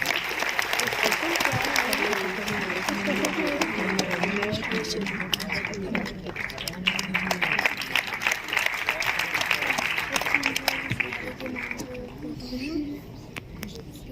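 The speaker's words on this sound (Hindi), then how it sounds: "तालियां आप सबकी तरफ से होनी चाहिए।" Audience applause at a state teacher's award ceremony, a dense, steady wash of clapping lasting throughout with some voices mixed in and thinning near the end.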